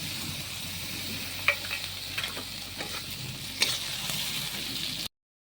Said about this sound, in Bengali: এখন আমি রসুন বাটাটা দিয়ে দিলাম।